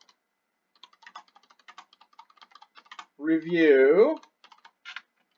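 Quick, light clicks of typing on a computer keyboard run in a steady patter, pausing while a person speaks briefly, then a few final keystrokes.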